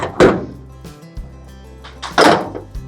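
A 1978 Chevrolet K20 truck door swings shut with a solid thunk, then a second closing follows about two seconds later, both close and fairly loud with quiet workshop air between.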